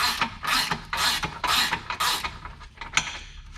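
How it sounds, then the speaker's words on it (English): Two wrenches work a bolt on an LP Aventure rear differential skid plate on a 2022 Subaru, giving a series of close, rasping ratchet strokes in an uneven rhythm, with no talking. "Now this is where you're going to need to use 2 wrenches."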